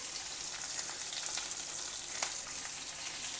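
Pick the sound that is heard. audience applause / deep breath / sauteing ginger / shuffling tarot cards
sauteing ginger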